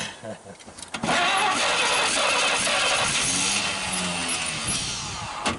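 A 1939 Chevrolet Master engine, unstarted for 48 years, cranks briefly and then catches into a loud, steady, rough-running idle that continues close by.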